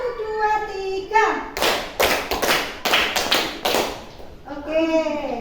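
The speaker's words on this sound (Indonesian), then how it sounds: "tepuk 1, tepuk 2, tepuk 3, tepuk 1, 2, 3." A group claps in short rhythmic bursts, about seven sharp claps in a quick one-two-three pattern, at an Indonesian teacher-training session. A voice speaks before and after the clapping.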